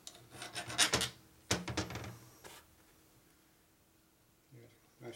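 Short rasping strokes of a file work a burr off a 1942 Harley-Davidson WLA/WLC 45 cubic inch transmission part, coming in a few close bursts with pauses between, quiet and near.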